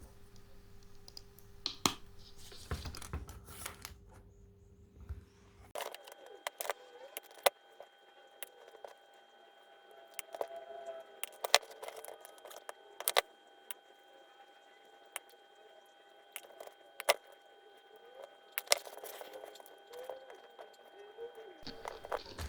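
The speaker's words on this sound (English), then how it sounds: "And I use my side cutters just to cut it quick and easy." Side cutters snip 6 mm strips of corrugated iron material for diorama fences, producing a series of sharp, irregular clicks and snaps, close and fairly quiet, spread across the whole stretch.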